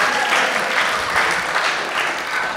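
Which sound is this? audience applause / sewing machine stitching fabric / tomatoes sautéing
audience applause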